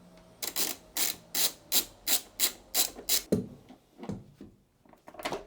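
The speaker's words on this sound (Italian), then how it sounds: "Dopodiché andiamo a scollegare il nostro cavo negativo." Metal wrench working loose the negative battery cable terminal in a camper's electrical system: a run of about nine regular, close scraping ratchet strokes, then a sharper clunk and a few softer irregular rubs and taps.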